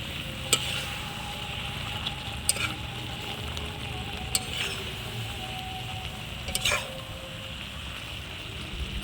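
Chalta (elephant apple) pickle sizzles softly in a hot pan, with a few sharp clinks of a spoon against the pan as it is stirred at intervals, quiet and close.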